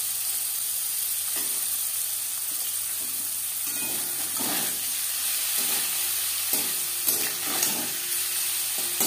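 Paneer frying lightly in oil with turmeric and red chili powder, a constant close hissing sizzle with soft stirring scrapes now and then, alone and fairly loud throughout.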